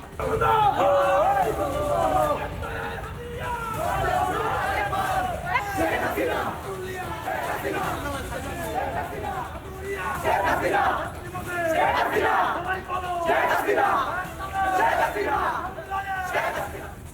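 A crowd at a protest march in Dhaka and Chittagong chants slogans loudly in rising and falling waves of many voices, with shouted calls and general crowd noise throughout.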